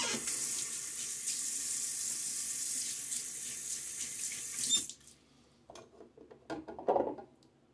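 Tap water runs steadily into a sink while a shaving brush is rinsed after a shave with a Gillette Nacet blade, a broad continuous hiss for about five seconds, then the flow stops and a few scattered splashes and clicks follow.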